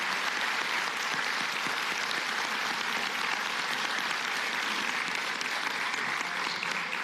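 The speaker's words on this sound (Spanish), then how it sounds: "yo les pido un aplauso, por favor," Sustained applause from a lecture audience honoring Pulitzer Prize-winning photographer Edgar Garrido at a university talk, a steady dense wash of clapping hands throughout without letup.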